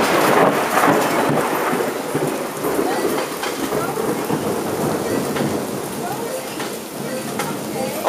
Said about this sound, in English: These are all close hits.